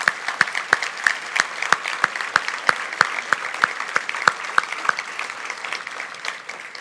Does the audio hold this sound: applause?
yes